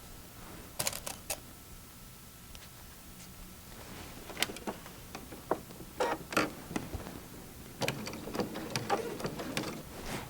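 Sewing machine stitching quilt block rows together: short bursts of mechanical clatter and ticking, quiet and close, separated by pauses and intensifying into denser runs toward the end.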